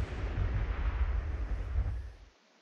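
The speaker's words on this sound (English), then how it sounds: "Those explosions were kind of wimpy" Booming fireworks in the video game Fireworks Mania, a loud sustained rumble of bursts that fades away toward the end, leaving near silence.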